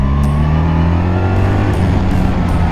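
A BMW 1300 GS adventure motorcycle, brand new, idles with a steady, close, loud low engine rumble and a few faint higher clicks, no talking.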